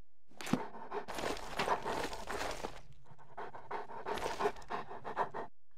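A dog pants rapidly and steadily in The Elder Scrolls IV: Oblivion, close and clear, in two long bursts split by a short pause, with faint footsteps beneath.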